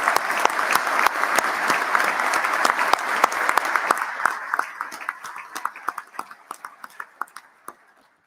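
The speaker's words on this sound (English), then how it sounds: "Let's give them a round of applause for stepping up." Outdoor crowd at an airline pilots' informational picket rally claps for the pilots, a loud burst of many hands that thins over the last few seconds into scattered individual claps.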